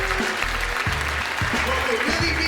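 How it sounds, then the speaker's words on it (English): Audience applause for Chris Broussard at a Black Lives Matter youth summit during NBA All-Star Weekend, a steady wash of clapping with sharp low thumps and a voice over it. "Please give a wonderful round of applause for Mr."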